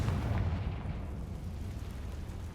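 A Confringo fire spell explodes in the video game Hogwarts Legacy, a single deep rumbling boom that fades slowly into a low roar over a couple of seconds, heard alone without speech.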